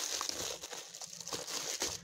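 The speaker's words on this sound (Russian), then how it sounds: "А неудобно все-таки одной ручкой распечатывать." Crinkling, rustling packaging as a parcel from China containing a selfie stick tripod is opened with one hand, with close, busy crumpling and tearing noises throughout and no talk.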